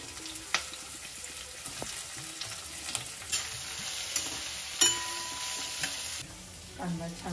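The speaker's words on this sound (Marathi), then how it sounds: "कांदा छान परतून झाला आहे आपला।" Onion, coconut, garlic and ginger being stirred in a kadhai for a Maharashtrian maswadi gravy, with a soft sizzle under scattered scraping and clinking of a spatula and a thin steady tone in the middle stretch.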